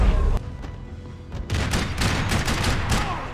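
Gunfire in Max Payne 3 arrives as scattered loud shots, then a dense flurry of rapid bursts through the second half, with no one speaking.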